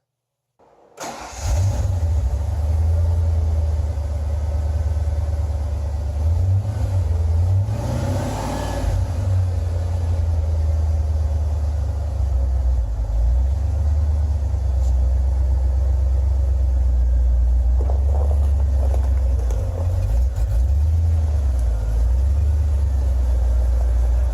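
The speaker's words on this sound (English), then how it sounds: "So now let's get the car out" A car engine cranks and starts, then idles with a deep, steady rumble that swells as the vehicle pulls away.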